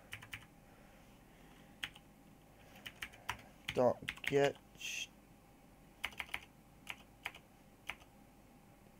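Keys clatter on a computer keyboard in irregular bursts of clicks, close and fairly quiet, while someone briefly speaks partway through.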